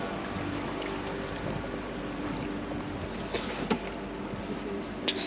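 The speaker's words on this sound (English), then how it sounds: "Just the slight lapping of water sounds." Gentle water lapping along a Venice canal, a soft steady wash with a few small splashes near the end, heard from a boat beneath faint wind.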